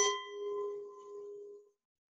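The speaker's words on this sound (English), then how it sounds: "when I hit my wine glass with a spoon, you can hear the sound" A spoon strikes a wine glass once, giving a bright clear ring with a sharp onset that sustains as a pure tone and fades out over about a second and a half, close and alone.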